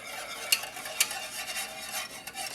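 Vegetable broth simmering in a butter and flour roux for gravy, with soft steady bubbling and sizzling and a couple of light clinks from stirring, close up.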